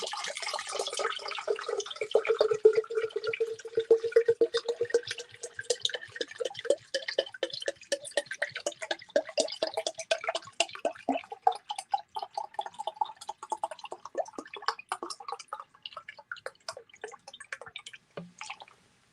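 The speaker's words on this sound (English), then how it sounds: "Let's go ahead and give it a pour." Liquid pours into a glass in one long, continuous stream, its gurgling, dripping texture rising steadily in pitch as the glass fills, then thinning to a few last trickles and drips, with no voices.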